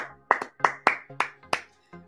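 Several people clap together in a steady rhythm, six or seven crisp, close claps spaced evenly before a sign-off.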